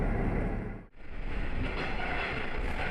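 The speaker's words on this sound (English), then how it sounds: "The train is passing through the last tunnel on the Nishikigawa Clear Stream Line." A train on the Nishikigawa Clear Stream Line runs through a tunnel with a loud, steady roar and a brief dip partway through before the rumble resumes.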